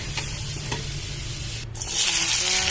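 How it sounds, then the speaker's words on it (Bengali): Cauliflower and carrot pieces fry in a pan, a loud continuous close sizzle with a few light stirring knocks, rising in intensity near the end. "এবার আমি সবজিগুলো ভেজে নেব।"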